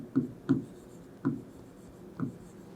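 Pen or marker writing algebra terms on paper or a board, a handful of short scratchy strokes in quick bursts with pauses between, close and fairly quiet, with no talking.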